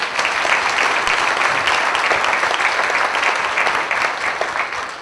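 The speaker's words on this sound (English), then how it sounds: "We're going to wear you out with applause" Sustained audience applause thanking partners at a University of Illinois event on World War II veterans' stories, dense continuous clapping that stays loud throughout and eases slightly at the end.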